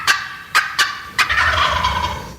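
A wild turkey gobbles loudly and close by on open public land in Idaho, with several sharp rattling bursts followed by a longer rolling gobble.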